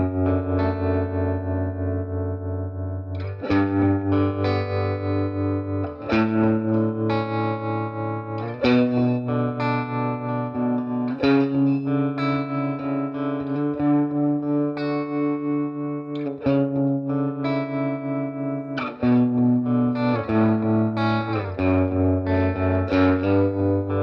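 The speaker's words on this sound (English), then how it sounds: "Now we'll move on to the tremolo, and I'll just let you listen to that for a little bit." Sustained electric guitar chords through a Swart AST Atomic Space Tone combo amplifier's tremolo pulse with a wavering, rhythmic volume swell, played alone and loud, the chord changing every few seconds.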